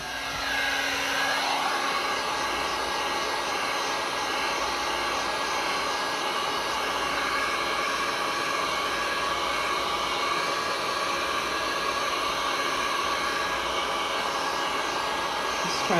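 Heat tool blowing hot air over resin coasters, a steady loud whooshing hiss close by that runs without a break throughout.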